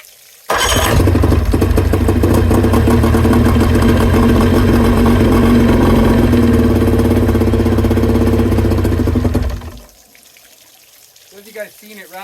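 A 2000 Johnson 50hp outboard motor starts abruptly and runs loud and steady for about nine seconds, rough and running on reduced cylinders, then cuts out into quiet with water sounds and a brief voice at the end.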